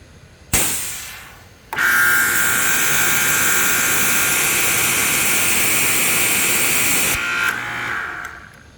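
A NorthStar 230-volt, 3000 psi pressure washer fitted with a 5.0 tip sprays at a loud, steady hiss after a brief start-up burst, running continuously for several seconds before cutting off.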